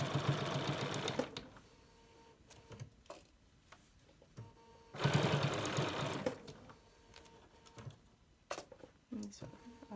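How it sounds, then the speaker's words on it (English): A sewing machine stitches down the side seam of a reusable snack bag, with a close, rapid mechanical whir in two bursts separated by a quieter pause, plus small clicks and handling noises. "this first side here, we're going to sew all the way down"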